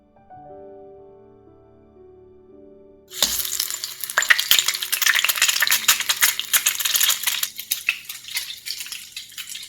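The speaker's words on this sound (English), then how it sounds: "Now we're going to wait for it to fry goldenish from both sides." Egg-battered bread slices for French toast with chocolate chips drop into a hot pan and burst into a loud, steady sizzle of frying, with a few clinks of utensils along the way.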